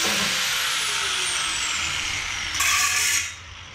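A cheap $59 angle grinder runs steadily on the frame of a 1977 Datsun minitruck, a loud continuous high whine that shifts pitch briefly near the end before dropping off.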